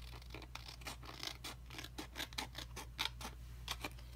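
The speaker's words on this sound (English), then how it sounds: "I'm just going to go ahead and trim this down real quick." Scissors snip through quilt backing fabric in a rapid series of close, crisp cuts, with short irregular pauses between bursts over a faint steady hum.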